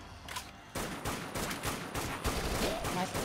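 Rapid gunfire from the zombie-shooting video game Dead Nation in co-op play, with dense, overlapping bursts of shots running almost continuously and loud throughout, with a hint of voices mixed in.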